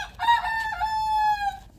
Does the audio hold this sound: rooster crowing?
yes